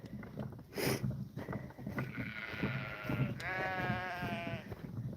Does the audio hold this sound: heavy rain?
no